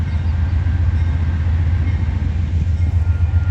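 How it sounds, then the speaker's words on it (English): Intermodal freight train rolling along the tracks in Rochelle on a rainy day, a steady loud low rumble that continues evenly without breaks or voices. "So we have a train coming. It's a intermodal"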